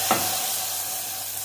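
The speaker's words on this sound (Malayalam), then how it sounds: "അതിൽ ഉള്ളി അരിഞ്ഞിട്ടാണ് നമ്മൾ വറുത്തിടുക" Chopped onion fried in oil is poured into a drumstick curry and gives a loud, close sizzle that starts with a quick burst and then hisses on steadily.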